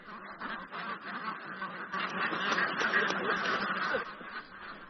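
Ducks quack steadily from nearby, several overlapping calls forming a busy, continuous chatter with no pauses.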